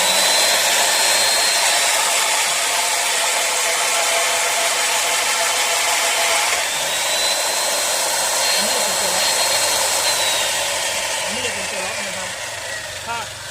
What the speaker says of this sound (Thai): เดี๋ยวทำเครื่องให้ดูนะครับตัวนี้จะเลื่อย